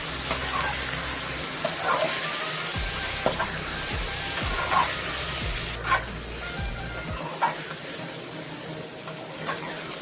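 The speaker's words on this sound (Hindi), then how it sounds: "अभी मैं 5 मिनट पकाएंगे सब्जी को।" Mixed vegetables with green peas cooking in a pan for veg pulao, a steady loud sizzle with repeated spoon stirring scrapes and clatters throughout, no talking.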